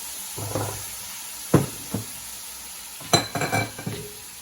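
Carrots, celery and onions sweating in a soup pot for potato soup, a steady low sizzle with a few sharp spoon clanks and scraping stirs against the pot.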